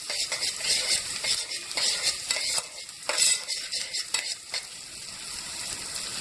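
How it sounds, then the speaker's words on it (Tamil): Chopped shallots (small onions) sauté in a pan for a Tamil kudal kulambu, giving a steady bright sizzle with recurring scrapes and stirring clatter, close and fairly loud throughout, no talking. "அதுக்கப்புறம் கொஞ்சம் சின்ன வெங்காயம் வெட்டி வச்சுருக்கிறத வதக்கிடணும்."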